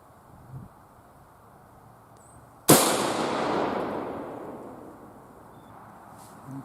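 One loud, close rifle shot from a Marlin 336 firing Winchester XP deer ammunition at an outdoor range, a sharp crack followed by a long fading echo across open ground.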